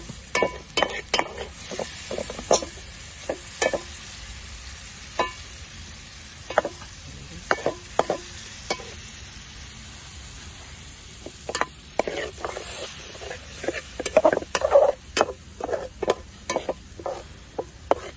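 Tomato paste stirred and frying in a pan for a village-style fish curry (chepala pulusu): scattered scrapes and clinks from the spoon over a faint, low sizzle, with no talking.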